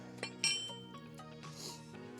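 Steel carriage bolts for a Westin Outlaw drop nerf step bar install on a Jeep Wrangler clink against each other as they are handled, with a few sharp metallic taps and a brighter rattle in a short, quiet burst.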